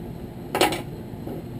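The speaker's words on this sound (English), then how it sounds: "Go ahead and clear my spoon out." A spoon being scraped and tapped clean of hot liquid plastic bait material, a short clattering metallic burst of about a quarter second, alone against a faint steady background hum.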